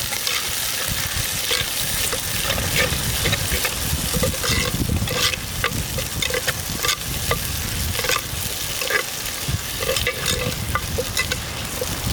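Green chillies, onions and tomato are stirred as they fry in a pan for a chicken fry dish. A loud, continuous close-up sizzle is broken by frequent spatula scrapes and clacks against the pan.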